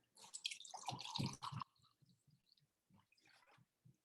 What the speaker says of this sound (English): And then I'm just going to pour the vinegar.